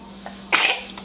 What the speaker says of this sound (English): When you sneeze, you gotta cover your mouth